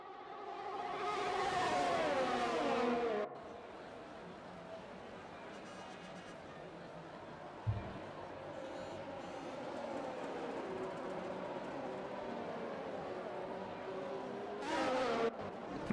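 Race cars in the MRC Endurance sim racing game: an engine whine rises and sweeps at the start, drops away, then surges again near the end, with a commentator's voice running throughout.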